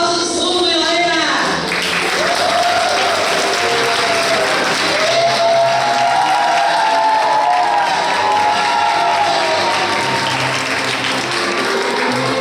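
An audience at a church wedding vow renewal claps and cheers for a couple marking eight years of marriage, with steady, loud applause that continues throughout, mixed with scattered shouts and a voice over the crowd.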